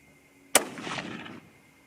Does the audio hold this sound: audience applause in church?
no